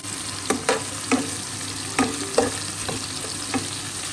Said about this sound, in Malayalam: ചെറുതായി ഒന്ന് മൂക്കുമ്പോൾ ഒരു സവാള അരിഞ്ഞത് ചേർക്കാം